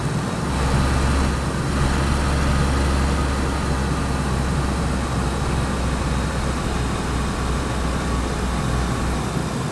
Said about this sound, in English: I wonder how far ahead a player could hear this car